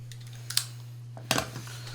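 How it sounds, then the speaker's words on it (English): A knife cuts the end off a handmade bowstring: two short, faint snips about a second apart over a low steady hum, with no talk. "We're going to break out our knife and we're going to cut this off."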